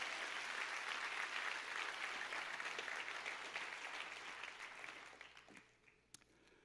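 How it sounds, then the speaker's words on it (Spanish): A church congregation applauds the King during a Spanish-language sermon, a dense wash of clapping at moderate distance that holds steady and then thins out and fades, with a few scattered final claps. "un aplauso."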